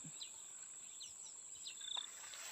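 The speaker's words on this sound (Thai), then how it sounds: "ได้ยินแต่เสียงนกบัดนี้" Birds in trees give a few faint, scattered high chirps against a constant thin insect-like whine, distant and quiet, with no voices.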